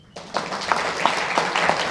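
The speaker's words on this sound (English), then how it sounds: "Can I get a round of applause?" A crowd breaks into applause at a city design competition announcement, steady clapping from many hands in a room, moderately loud and continuing throughout.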